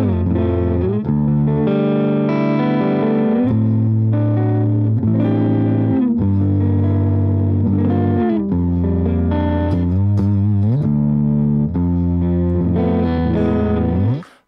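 Electric guitar run through a Line 6 Helix with a Rochester compressor first in the chain, on an ambient patch: sustained, heavily effected chords and notes with thick low end and spacious wash, played continuously and loud.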